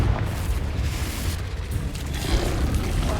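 A Confringo blasting spell explodes in the Hogwarts Legacy video game, a heavy rumbling boom that rolls on as a dense, sustained blast with no voices over it.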